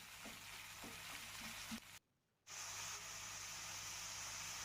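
Chopped onions with bay leaf fry in a pan for mutton curry, a close steady sizzle with a few stirring clicks and a short silent gap partway through.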